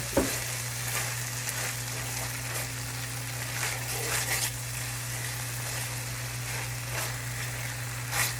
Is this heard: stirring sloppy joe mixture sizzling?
yes